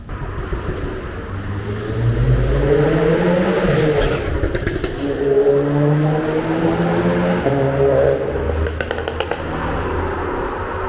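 Car engine revving hard on a city street at night in Bucharest, repeated surging rises in pitch over about ten seconds, loud and close with metallic clatter bursts.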